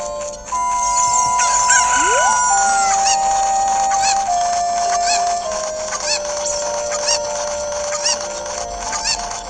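Video game chickens in Zelda Ocarina of Time 3DS, a run of short electronic clucks and squawks over layered game music and sound effects, with a rising tone and steady background hum.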